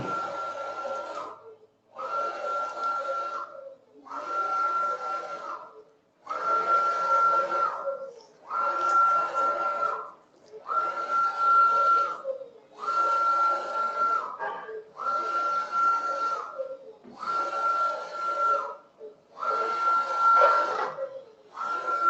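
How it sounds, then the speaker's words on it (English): A wall and ground printing machine runs in repeated passes: about ten evenly spaced bursts of a whirring, whining motor hum, each lasting roughly two seconds with short silent gaps between them. "The wall and ground printing machine."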